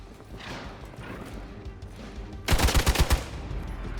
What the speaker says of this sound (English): Shoot Blade, don't shoot me, please. Shit is shooting me